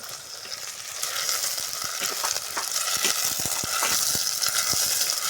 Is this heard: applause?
no